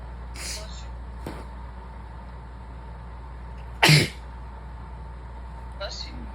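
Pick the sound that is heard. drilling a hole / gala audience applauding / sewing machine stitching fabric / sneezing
sneezing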